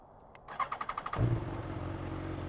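A motorcycle engine starts close by: a quick series of rhythmic cranking pulses catches into a steady, rumbling idle that carries on to the end.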